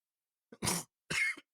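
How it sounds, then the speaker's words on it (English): Two short, close coughs or throat-clears come from one person, separated by a brief pause, in an otherwise silent room. "Oh, you're coughing."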